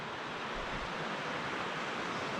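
Grey Wolf River rushing beneath a footbridge on a forest trail, a steady broadband roar of flowing water filling the scene with no talking.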